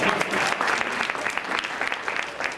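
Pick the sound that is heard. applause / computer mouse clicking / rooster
applause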